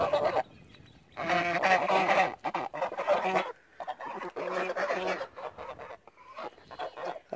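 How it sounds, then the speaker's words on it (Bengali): Geese honking nearby in repeated loud bursts, several overlapping calls with short gaps between them. "রাজহাঁসেরা নির্বোধ কিন্তু সাহসী।"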